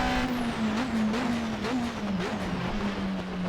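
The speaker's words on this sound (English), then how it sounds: "So the 2016 spec GTR here, as you can hear, 4-cylinder engine." A 2016 Nissan GT-R Super GT GT500 race car's four-cylinder engine drones steadily in Assetto Corsa, its pitch holding high with slight dips at shifts, loud and close with no talk.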